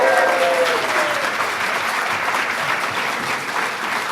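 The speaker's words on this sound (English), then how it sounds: "A round of applause for Adelia Jimenez." Crowd applause at a July 4th ceremony at the National Archives, a dense, steady wash of clapping that carries on evenly, with a faint tonal sound briefly at the start.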